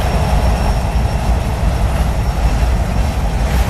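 Freight train boxcars roll steadily past at close range, a dense continuous rumble with clattering wheels and faint squeals, with no voices.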